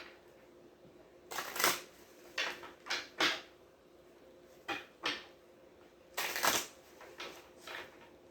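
Tarot cards drawn from a deck and laid down on a surface: a series of short, close papery swishes and slaps in irregular bursts, with quiet pauses between them.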